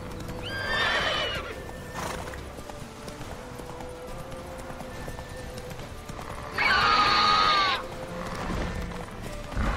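A horse in The Witcher III video game neighs loudly twice, near the start and again around the seventh second, with clip-clop hoofbeats and game ambience running underneath.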